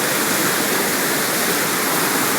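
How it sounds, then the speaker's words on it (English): Floodwater of the Lester River in Duluth rushes over a submerged bridge during a June flood, a steady, loud, broadband roar that continues without a break. "You can see that bridge up there, which the water is completely going over that bridge."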